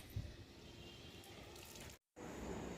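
Water pours steadily onto garden plants, a soft continuous splashing that breaks off for a moment before resuming.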